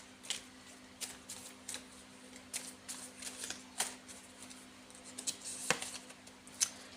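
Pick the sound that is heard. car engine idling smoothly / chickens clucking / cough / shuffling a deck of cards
shuffling a deck of cards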